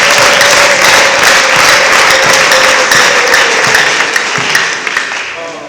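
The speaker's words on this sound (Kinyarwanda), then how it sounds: "Komera Imana amashyi kuri aba bana." A church congregation applauds newlywed couples at a morning service, loud dense clapping that fills the room steadily and tapers slightly toward the end.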